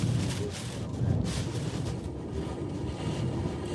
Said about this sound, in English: I'm thinking these are probably 100 mile per hour gusts.